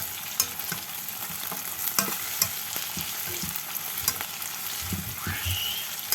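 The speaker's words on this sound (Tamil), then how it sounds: "இப்படியாக கிளறி விட வேணும்." Curry leaves and onion fry in a pan while being stirred, a soft steady sizzle with a few light scrapes and taps of the spoon, fairly quiet and close, no voices.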